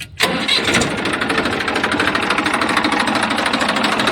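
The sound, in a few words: tractor engine self-starting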